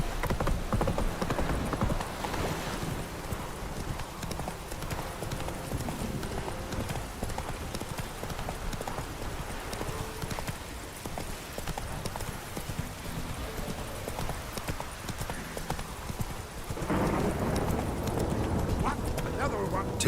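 Roach the horse trotting in The Witcher 3, a continuous clip-clop of hooves with occasional snorts, steady throughout under game dialogue and ambient sound.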